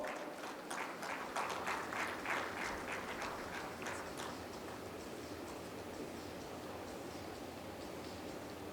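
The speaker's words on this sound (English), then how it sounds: "A round of applause for Mr. Sheshagiri Koppal" A conference crowd claps steadily for several seconds. The applause is fairly even and sustained, and it tapers off slightly toward the end.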